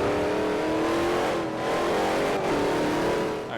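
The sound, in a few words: Shelby GT500 engine revving while drifting, Forza Horizon video game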